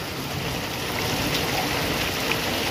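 Heavy rain from Cyclone Remal in West Bengal pours down in a dense, steady hiss that stays loud and even throughout, with no voices.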